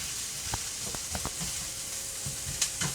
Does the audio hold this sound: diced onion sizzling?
yes